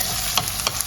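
Onions fry with garlic in a pan for carbonara, giving a steady close sizzle with a few quick stirring scrapes, and no voices.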